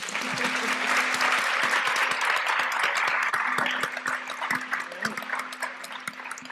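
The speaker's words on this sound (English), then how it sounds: "I think they deserve another round of applause" An audience at a panel discussion on reparations and racial health gives a sustained round of clapping, dense and fairly close at first, then thinning slightly toward the end.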